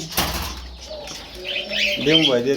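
Fancy pigeons at a pigeon farm flap their wings in a short loud burst, followed by soft cooing and chirps, with people talking in the background.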